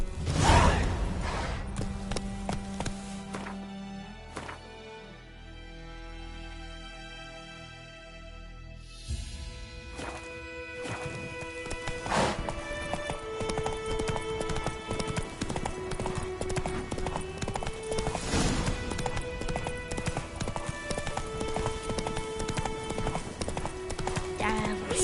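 A horse galloping in The Witcher video game, rhythmic hoofbeats clip-clopping loudly with a brief whinny, set among game music and a spoken voice.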